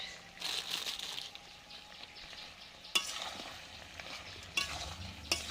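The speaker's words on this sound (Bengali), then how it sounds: "লবণ দিয়ে আরও কিছুক্ষণ কষিয়ে নেব" Goat meat curry stirred and sizzling in a pan after salt goes in, a steady fry hiss with scraping spoon strokes and a few sharper knocks against the pot, fairly close.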